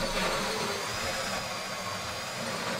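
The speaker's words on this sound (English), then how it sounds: "Keep drilling." A power drill grinding into a bank safe during a GTA 5 heist, a steady buzzing whine with harsh noisy texture, continuous and moderately loud throughout with no talk.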